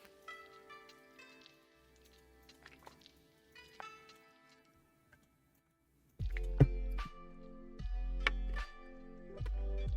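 A person drinks water at a desk: quiet small clicks and taps first, then a run of loud, rhythmic, close-up gulps in the second half.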